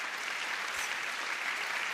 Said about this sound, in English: let's do a round of applause for this